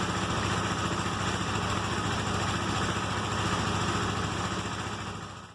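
A KTM RC390 motorcycle engine runs after a Power Commander install, a steady close idle with a buzzy, even hum that fades at the very end.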